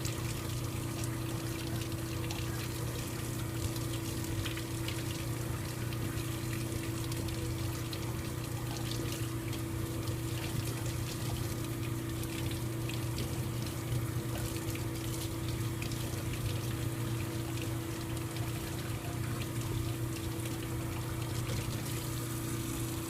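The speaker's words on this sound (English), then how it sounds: "so we're going to take it underneath" A dental model is rinsed under running tap water, a steady close splashing flow over a constant low hum, continuing evenly without pause.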